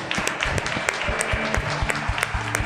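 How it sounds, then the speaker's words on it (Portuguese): A church congregation applauds together during a service, a dense, steady wash of many hands clapping at close range over low sustained background tones. "Você pode aplaudir o Senhor?"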